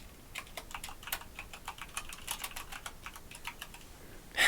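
Fast, steady typing on a computer keyboard, a dense stream of close light clicks with no talking, ending in a sharper louder tap.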